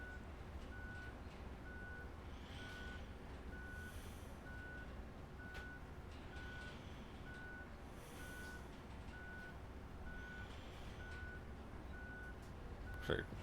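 A truck in the road-building game Roadcraft backs up, its reversing alarm beeping in a steady, evenly spaced pattern over a low engine drone, fairly faint throughout, with a brief louder knock at the very end.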